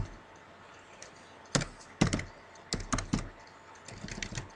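Computer keyboard typing during data entry into a statistics program, a quiet run of soft key taps in small bursts with pauses between, close to the microphone over a faint background hiss.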